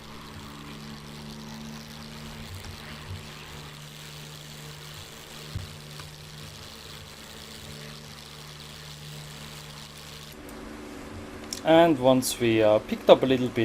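Steady low drone of a TF-51D propeller aircraft engine climbing after takeoff in the DCS World flight simulator, held at an even level throughout, with someone talking over it near the end.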